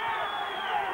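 Dense roar of a boxing crowd of about 3,000 cheering at a 1991 title fight in Hammersmith, London, a continuous close wash of voices.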